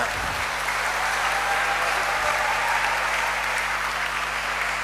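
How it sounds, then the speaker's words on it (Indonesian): Applause from a church congregation for a youth choir (OMK) at an Easter vigil Mass, a steady, sustained clapping crowd filling the space without talk. "mari kita beri aplaus dulu untuk paduan suara OMK"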